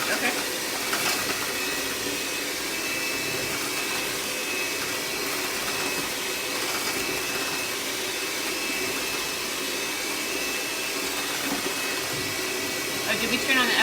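An electric mixer beats two cups of sugar into maple bar batter with a steady, close whirring drone that runs unbroken for the whole stretch. Faint voices sit beneath the motor noise.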